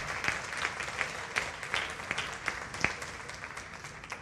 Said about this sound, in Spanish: El aplauso es para Dios